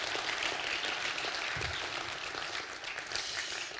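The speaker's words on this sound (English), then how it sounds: "So maybe just a round of applause for them as thanks." A church congregation at a town hall meeting fills the room with a steady, dense round of applause, a continuous rain-like wash of many hands clapping at even loudness for the whole stretch, with no voices standing out.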